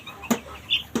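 Fayoumi chickens on a poultry farm give two short, fairly close clucks about half a second apart, with a faint higher call between them and no talking.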